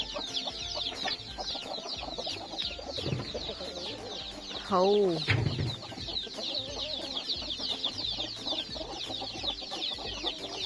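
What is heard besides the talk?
chickens clucking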